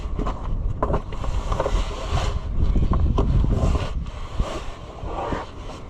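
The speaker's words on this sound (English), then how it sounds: "The wind, come on, wind. Enough." Steady outdoor wind gusts buffeting and roaring across the microphone around work on a New Holland TN75DA tractor, loud and continuous for the whole stretch with no talk.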